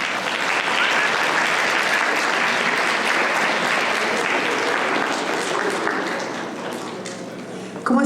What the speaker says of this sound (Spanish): les pido un fuerte aplauso y recibir a Tere Estrada